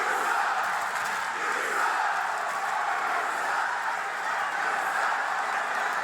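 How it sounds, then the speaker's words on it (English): A large wrestling arena crowd chanting loudly throughout a John Cena segment, a dense, continuous roar of many voices with no break. "Is that or is that not clear as day a man chanting shut the fuck up?"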